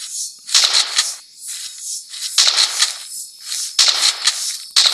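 Gunshots ring out in a horror video game set while camping in a deep forest. They come as sharp, crackling bursts at irregular intervals, each followed by a quick decay.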